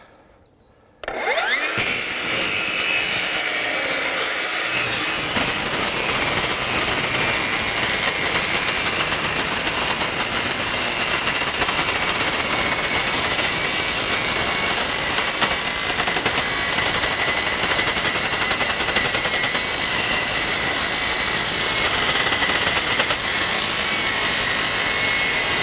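Milwaukee M18 FUEL cordless 8-inch metal-cutting circular saw, model 2982-20, cutting through metal and wood together: after a second of quiet the blade bursts in loud and holds a continuous harsh, grinding whine for over twenty seconds, with no talk.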